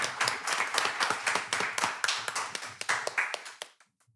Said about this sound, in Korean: 우리 여러분 박수 한번 좀 부탁드리겠습니다.